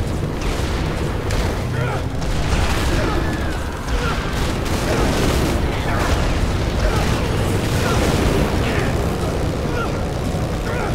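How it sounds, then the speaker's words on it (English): Explosions in the video game Dead Rising 3: dense, continuous booms and bursts with mechanical clatter in a loud, busy game mix, while players talk over it. "do you not hear the explosions"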